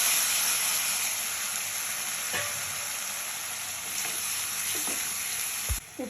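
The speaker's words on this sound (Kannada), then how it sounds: "ಬೆಂದಂತಹ ಸೋರೆಕಾಯಿ ಹೋಳು ಹಾಕ್ತಾ ಇದ್ದೀನಿ." Boiled bottle gourd pieces sizzle steadily in a hot pan as they are stirred, with a loud continuous frying hiss and occasional scraping clinks of the utensil.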